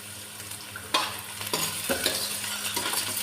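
Tomatoes dropped into browned onions frying in a pan for cabbage sabzi, landing with a sharp hit that brings a louder sizzle, followed by repeated stirring scrapes over a steady frying crackle.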